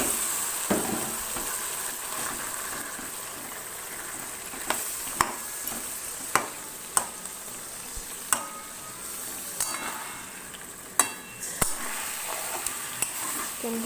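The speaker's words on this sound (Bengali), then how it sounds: "এবার আমি চিকেনটা দিয়ে দেবো।" Chicken pieces frying with spices in a pan: a continuous low sizzle broken by repeated sharp scrapes and clinks of a spatula stirring, close and clear throughout.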